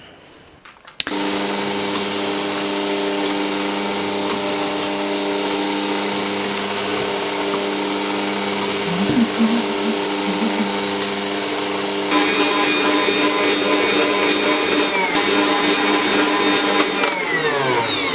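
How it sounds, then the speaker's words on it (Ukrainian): An electric mixer whipping egg whites to stiff peaks starts abruptly and runs as a loud, steady motor whine with a strong hum, its tone shifting slightly higher partway through, close and continuous without talk. "Паралельно окремо збиваємо наші білочки в стійкі піки."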